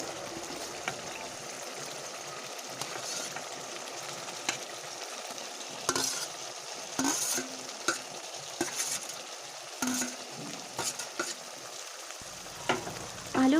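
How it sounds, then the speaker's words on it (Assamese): Boiled potatoes stirred into sizzling spices in a pan for an egg curry, a steady frying hiss with repeated scraping stir strokes and clatters throughout, no voices. "আলুখিনি ঢালি দি অলপ সময় লৰাই থাকিব লাগিব।"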